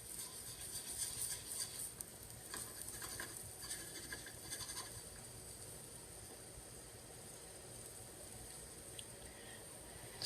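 Food sizzles steadily in a pan with a soft, continuous crackle, punctuated by a few light scrapes and taps as a spatula shifts it around, fairly quiet and close.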